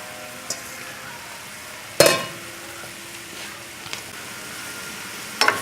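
Vegetables for a chicken, green bean and mushroom casserole fry quietly in a pan, with a few sharp scraping stirs and clinks of a utensil breaking over the soft, steady sizzle.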